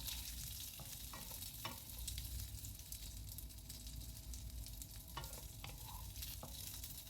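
Tiffin pieces for a protein-rich breakfast are stirred and fried in a pan, a steady quiet sizzle with occasional scrapes and clicks of the spoon against the pan.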